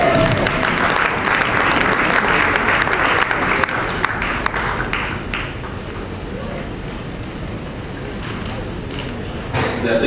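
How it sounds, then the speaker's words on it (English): Sustained, dense applause from a theatre audience at the Lagos International Theatre Festival opening ceremony, loud and steady for the whole stretch and slightly fading toward the end. "Give them a round of applause."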